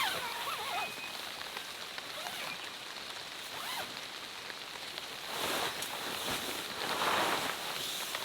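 Heavy rain pours steadily onto an air tent at a rainy campsite, a dense close hiss of drops on fabric that swells louder toward the end, with faint rustling underneath.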